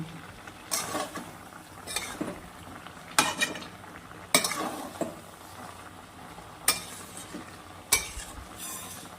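Pumpkin and Malabar spinach being stir-fried with prawns produce a low sizzle under repeated loud scraping and clanking strokes of a spatula against the pan, roughly every second or two.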